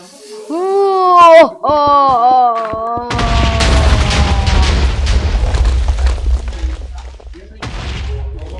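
A house is blown up in a video game: a few wavering, voice-like tones come first, then a loud booming blast that rumbles on for several seconds and slowly fades.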